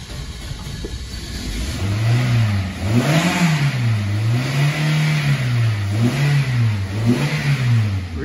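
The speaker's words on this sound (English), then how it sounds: "So let's start it up and see if it misfires anymore." A 2006 Toyota Corolla 1.8 engine cranks and starts, then runs with misfires after oil got into a cylinder, its revs rising and falling unevenly in a steady close drone with no talk.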